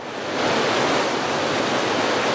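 River in spring flood with snowmelt pouring down, a steady, loud, broadband roar of rushing water that holds unbroken and close throughout, with no voices over it.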